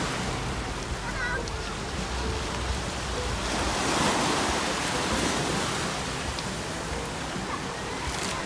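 Ocean waves roll onto Huguenot Beach in Jacksonville in a continuous wash of surf that swells slightly midway, with wind buffeting the microphone.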